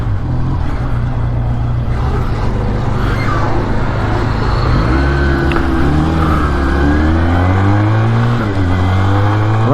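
A Braaap ST400 motorcycle with a 400cc single-cylinder engine idles loud and close, then revs up repeatedly in rising and falling surges, its deep, throbbing note climbing and dropping through several blips.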